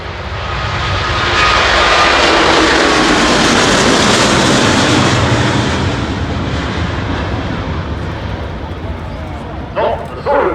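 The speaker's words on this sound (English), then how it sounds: "the noise of the Airbus take off will be considerably less than that of the Boeing 727 you're going to hear later" Airbus A350-1000 widebody airliner taking off during a flying display at the Farnborough International Airshow, a loud broad engine roar swelling then slowly fading into the distance, with a dog barking briefly near the end.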